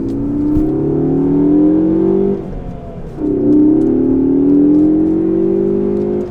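A Ford Focus ST pulls away under acceleration, its engine note climbing steadily through one gear, dipping briefly at a shift, then rising again loud and close from inside the car.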